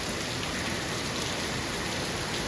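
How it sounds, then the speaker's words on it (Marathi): Heavy rain pours down in a steady, dense, loud hiss with no pauses, with no voices heard. "बघा किती पाऊस पडतोय बेकार."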